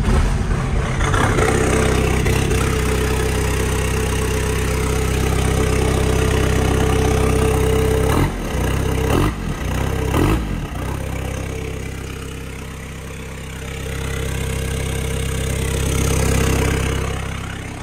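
A Suzuki Samurai engine fitted with a large turbo runs at a loud, steady idle, cutting out briefly a few times before catching again and idling on.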